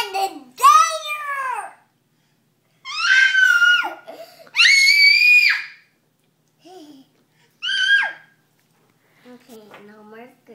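A young girl at a dinner table gives several loud, high-pitched shrieks in bursts separated by short pauses, and an adult speaks briefly toward the end.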